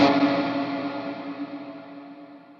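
Distorted electric guitar through a Flamma FS02 reverb pedal on its cathedral setting: a single sustained chord blooms into a long, shimmering wash of reverberation that slowly fades over a few seconds, with no voices.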